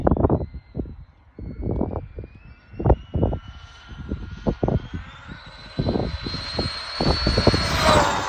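Arrma Big Rock RC truck on a stock motor running 3s power, its electric motor whining loudly and rising steadily in pitch at full throttle, with rough bursts of tire and chassis noise from driving across the ground, no talking.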